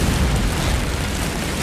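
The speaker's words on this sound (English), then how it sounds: "a second massive explosion destroys much of Violeta Street." A massive explosion roars as a sustained, loud, dense blast of rumbling noise, filling the whole clip with no voices.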